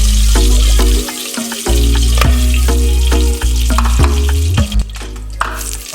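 Shrimp frying in a pan give a loud, constant sizzle that drops out briefly several times, with pops and crackles throughout and no one talking.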